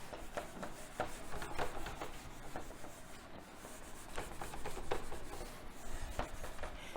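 Chalk or marker scratching across a classroom board during a physics lesson on the electric field of a dipole, quiet irregular strokes and taps in short bursts with small pauses, close and faint.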